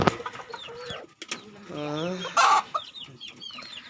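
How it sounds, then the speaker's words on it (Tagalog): An Ayam Ketawa rooster crows once, close and loud, its call rising and falling, surrounded by brief clucks and scattered clicking noises. "Katuwa ang kanyang tilaok."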